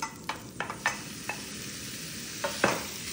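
Spicy-seasoned chicken cooks in a pan, a faint low sizzle under a few light scraping stirs and clinks scattered across a few seconds, with no talking.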